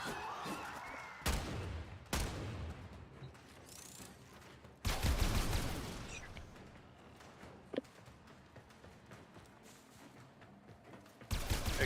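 Video game gunfire comes in a few sharp, loud bursts of rapid shots separated by quieter stretches of low background game noise.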